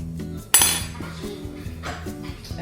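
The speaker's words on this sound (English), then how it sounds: "We're gonna mix it with a fork." A fork clinks against a bowl while a sauce for salmon is mixed, with a sharp metallic strike followed by repeated light scraping and tapping, close and moderately loud.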